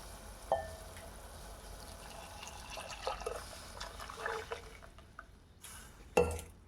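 Buttermilk goes into a hot pan of dissolved sugar over low gas and gets stirred, a faint liquid splash and sizzle with soft scraping and clinks, ending in a sharper knock of the spoon.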